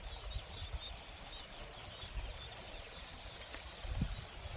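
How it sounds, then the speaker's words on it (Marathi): Faint sparrow chirps twitter in the distance above a steady, loud wash of water rushing down from the hills. "चिमण्यांचा चिमण्यांचा चिवचिवाट"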